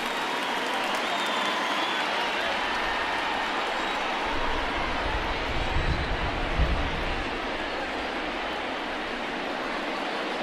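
A restless home crowd in the MLB The Show 20 baseball game, Phillies against Dodgers, a steady broad stadium roar with murmuring and scattered clapping that swells briefly and then holds at a constant level.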